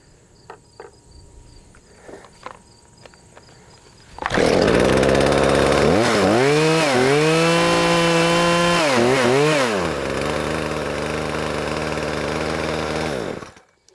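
A small chainsaw engine after carburetor adjustment starts up loudly and runs close, its pitch rising and falling through several throttle revs before settling into a fast, high idle, with faint insect chirps beforehand.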